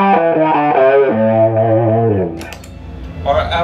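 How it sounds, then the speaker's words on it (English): Distorted electric guitar chords through an Electro-Harmonix Crying Tone wah pedal, with a sweeping wah filter, a few sustained notes then a short muted strum at the end. "You can do things you can't do with a regular wah, and it responds to distortion great"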